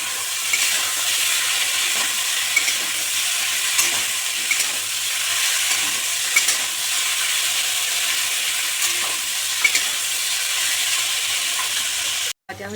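Chopped onion frying in a pan, a loud, even sizzle with occasional stirring clicks across the whole stretch, cutting off abruptly near the end.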